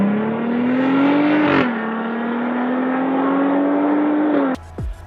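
Jeep JK engine revving through a Borla exhaust, a deep, round, bassy drone that swells, dips and holds steady at close range, then cuts off abruptly near the end.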